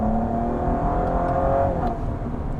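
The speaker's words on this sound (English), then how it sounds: "it does allow a good amount of intrusion in the cabin" The twin-turbo V6 of a 2016 Cadillac ATS-V drones steadily inside the cabin while the car accelerates through city streets, a loud continuous engine hum with rising tones and no talking.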